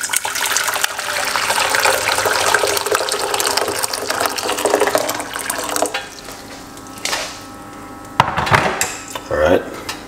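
Hot water is poured into a cup, with a continuous splashing pour mixed with clinking dishes and cutlery, then a quieter stretch with a few sharp kitchen knocks and clatters near the end.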